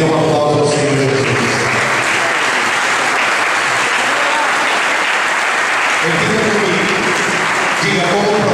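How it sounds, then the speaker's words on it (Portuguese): A church congregation gives Jesus a sustained round of loud applause, a thick, steady wash of clapping with a voice or music rising over it near the end. "dê uma aplauso ao Senhor Jesus"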